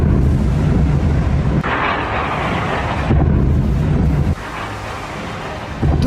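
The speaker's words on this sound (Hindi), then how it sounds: "पहला धमाका" Explosion from a missile strike on Kharkiv: heavy low rumbling booms roll in repeated waves under loud wind-like noise, with no clear sharp blast onset.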